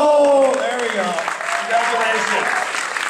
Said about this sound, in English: Give that guy some applause there.